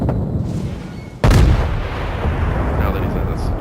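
A battleship's main guns fire in the World of Warships naval game, one sudden heavy boom followed by a long rumbling tail, loud and close, with background game ambience and little voice.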